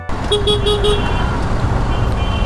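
Busy city road traffic hums with engines and road noise, broken by several short car horn toots near the start and a brief, faint honk later on.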